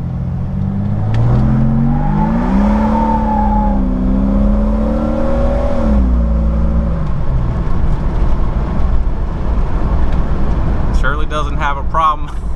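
A straight-six car engine revs and climbs in pitch, holding a strong rising drone before easing off, with a brief rattling burst near the end.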